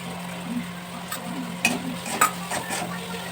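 Peas with green and ripe red chillies and chopped tomato fry in a kadai, a low steady sizzle over a faint hum, with a few sharp clinks and scrapes from stirring.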